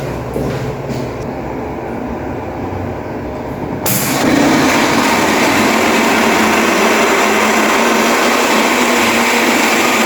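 A loud electric motor on a vertical multistage centrifugal pump starts up partway through and runs steadily with a harsh, broadband whirring roar, noisy from a fault, close and constant after a quieter opening.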